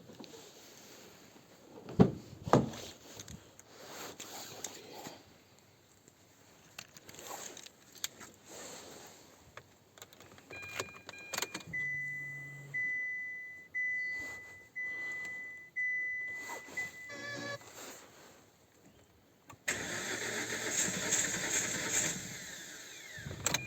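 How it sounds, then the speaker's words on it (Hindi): A car engine in freezing weather near Jim Corbett National Park cranks again and again in a series of rising starter bursts about a second apart without catching, with a thin steady beep running through, followed by rushing noise. "गाड़ी भी नहीं उठ रही है, गाड़ी स्टार्ट नहीं हो रही, मतलब ज़्यादा ही ठंडा हो गया है।"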